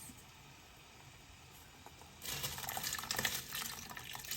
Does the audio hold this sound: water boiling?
yes